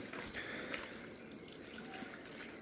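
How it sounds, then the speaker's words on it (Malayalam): Water being poured into a pressure cooker holding peeled tapioca and salt, a steady close trickling and splashing stream that runs without pause and stands alone. "അപ്പോൾ ഉപ്പൊക്കെ ഇട്ട് വെള്ളം പാരാണ്."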